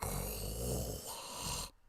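A human voice imitates the breathing of a Martian creature, a rough, snoring, growling rasp held for about a second and a half before it cuts off abruptly.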